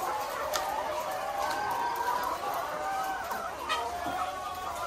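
Laying hens cluck in wire layer cages, a soft chorus of overlapping calls at low to moderate level under a faint background hiss.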